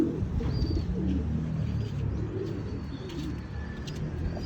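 Pigeons coo softly and repeatedly while small birds chirp now and then in the background, all at a moderate distance with no talking.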